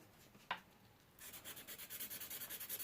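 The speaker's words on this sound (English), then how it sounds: "hand sand a lot of this out." An electrician's knife blade is sanded by hand during a restoration: one light tap, then a run of even back-and-forth rubbing strokes, close and fairly quiet.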